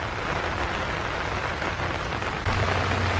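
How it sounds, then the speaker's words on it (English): Hard rain falls steadily in a park on a September morning, a dense close hiss of drops on surfaces that swells slightly louder near the end. "It's raining hard now, but we definitely need it."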